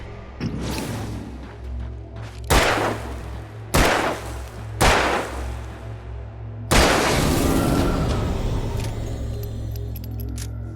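Gunshots in the video game Alan Wake, five loud booming reports spaced a second or more apart, each with a long echoing tail, over a low steady hum.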